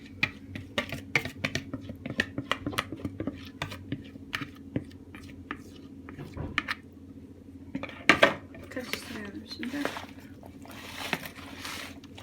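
Thinly sliced potatoes being mixed with sauce in a large bowl, giving soft irregular clinks and wet shuffling close by, with scattered clatters and one louder knock.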